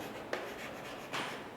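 Marker or chalk writing on a board while setting out a three-column cash book for an accountancy lesson, with a few short scratchy strokes close by in a quiet room.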